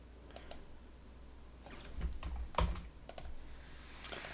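Faint, scattered clicks from a computer mouse and keyboard at a desk come in irregular bursts, quiet and close, with no talking.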